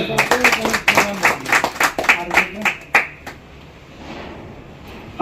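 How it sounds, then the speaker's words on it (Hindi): Rhythmic, enthusiastic applause from a ceremony audience at an oath-taking event, a string of sharp claps for about three seconds that fades into quiet room tone. "जोरदार तालियां।"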